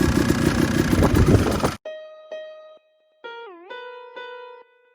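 A Husqvarna WR250 dirt bike fitted with a Rekluse clutch runs with a close, loud rumbling engine for under two seconds while in gear, then cuts off and is followed by clean electronic tones.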